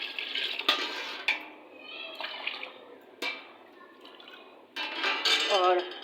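Water is poured by the glassful onto long-soaked rice in a pot for chana dal khichdi, in several short splashing pours with light utensil clinks, while someone speaks.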